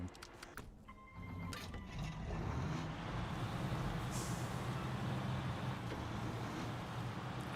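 A Kenworth C500 truck in SnowRunner's Washington map gives a low, steady engine rumble after a brief mechanical clatter and hiss at the start, then holds a constant drone.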